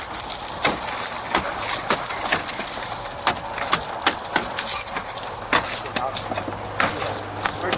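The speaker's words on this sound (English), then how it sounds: "We're going to break the glass to get you out." Police break a car window during an arrest, with a run of loud, close, sharp cracking and crunching impacts in quick irregular succession over a low idling engine hum.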